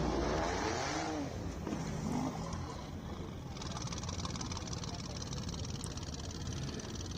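An Alfa Romeo Giulia QV race car at a hillclimb, its engine a steady, loud broadband roar that drones continuously throughout, with a brief pitch sweep early on suggesting revving.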